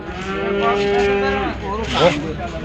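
A cow gives one loud, drawn-out moo close by, its low voice rising then tailing off.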